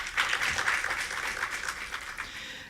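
An audience at a college entrepreneur pitch contest gives a round of applause for a judge standing up; moderate, somewhat distant clapping swells early and gradually fades.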